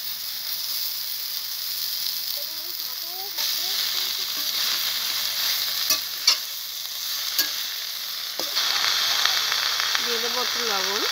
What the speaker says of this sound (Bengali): এই মাছ ভাজা তেলে আমি শাকটাকে হালকা করে একটু ভেজে নেব।